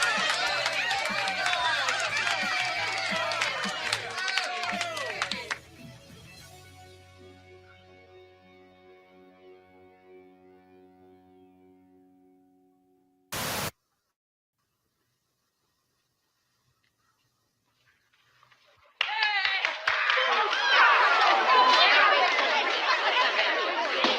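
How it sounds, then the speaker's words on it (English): A crowd claps and cheers loudly, the applause fades out, there is a short burst and silence, then clapping starts again. "Another round of applause for Tones."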